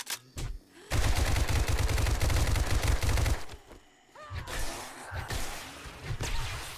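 Rapid automatic gunfire in a shooter video game hammers loudly for a few seconds, then breaks into clattering reload and weapon-handling sounds before short bursts of shots resume.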